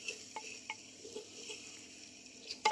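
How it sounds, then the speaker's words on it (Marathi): Chili powder and garam masala stirred into onions and tomatoes in a pan, soft scraping strokes with light clinks of a spoon against metal over a faint sizzle, ending in a sharper clatter. "आता लाल तिखट, साठवणीचा मसाला, हा गरम मसाला मिक्स करायचं व्यवस्थित सगळं घालून"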